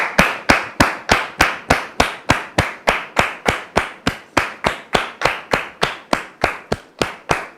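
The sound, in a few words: studio audience applause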